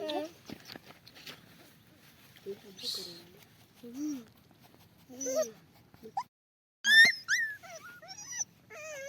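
A small puppy whimpers and yelps in short, high cries, with brief pauses and some rustling nearby.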